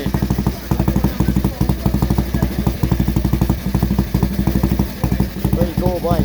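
A motorcycle with a hand-lever throttle idles close by on a street in Italy, its engine ticking in a steady rapid pulse that sways slightly in pace, while voices talk over it.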